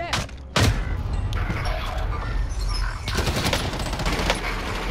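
Rapid bursts of automatic gunfire in an online shooter video game, loud and close, with a sharp boom near the start and continuous rattling fire through the rest, with game noise underneath.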